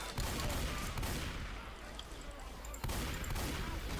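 Gunfire in the zombie shooter Left 4 Dead 2, dense rapid shots in a continuous barrage with a brief lull in the middle, loud and close.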